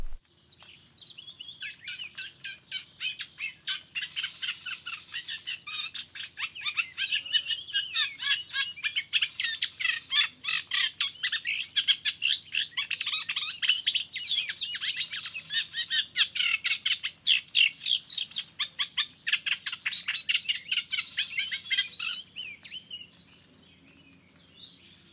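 A bird sings continuously for over twenty seconds, a fast, dense stream of high chirps and trills, fairly close and alone with no talk.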